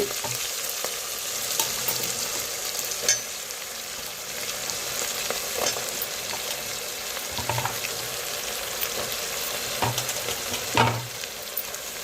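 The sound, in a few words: radish pieces sizzling in frying pan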